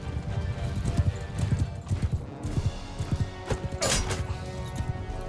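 Horses in the game Mount & Blade II: Bannerlord clatter past with a steady clip-clop of galloping hooves, loud and close, over a busy battle din, with a brief neigh or whinny rising near the end.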